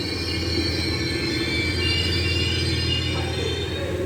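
A train rumbles into York station, a steady loud roll of wheels on rails with a sustained metallic hum and faint squeal, close by and uninterrupted.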